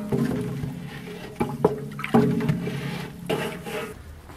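Quicklime slaked with water by the traditional method is stirred while it boils, producing close sloshing and bubbling with a few scraping knocks from the stirring, moderately loud and without talk.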